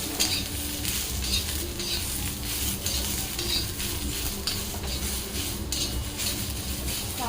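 Onion frying in a little oil until darkened for a spicy mutton rassa, a continuous close sizzle mixed with busy stirring, scraping and clinks of utensils against the pan.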